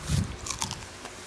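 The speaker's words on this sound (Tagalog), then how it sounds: "So ganito pala kalutong yung crispy pata." Someone takes a single close, loud crunchy bite of crispy pata, a deep-fried pork leg, during a seafood mukbang meal.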